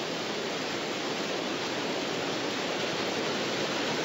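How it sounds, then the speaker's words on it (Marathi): Water of the Bhogawati river rushes over small check dams, a dense steady roar of flowing water with no talk over it. "भोगावती नदीचे हे छोटे बंधारे आहेत ते सुद्धा आता वाहू लागलेले आहेत"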